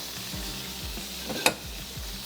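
Oil sizzles faintly in a pan while a masala for beef bhuna is cooked, a soft steady hiss with one brief metallic clink partway through.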